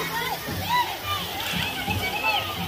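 Water splashing and sloshing at a water park as a large bucket fills and spills, a steady wash of spray close by with voices talking over it.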